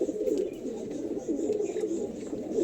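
Pigeons kept for sale at a home, including a single Andha Lalshira male, give soft repeated throaty coos, fairly quiet and close, in a low steady rhythm with no talking over them.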